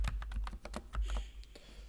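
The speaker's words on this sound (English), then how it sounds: "it's a lot of typing" Fingers type rapidly on a computer keyboard while writing code, a close, continuous run of crisp key clicks in an uneven rhythm over a low background hum.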